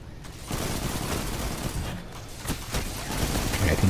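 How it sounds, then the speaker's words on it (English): Grenades bursting in the Destiny 2 video game: a continuous dense roar of explosions and gunfire with a few sharper cracks, loud and sustained throughout. "There's more nades popping off."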